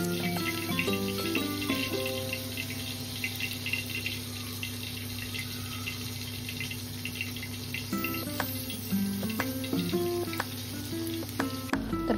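Stuffed Bombay duck (bombil) fish shallow-frying in oil over a medium gas flame. A steady close sizzle runs throughout, broken by occasional clinks and scrapes of a utensil, with no voices.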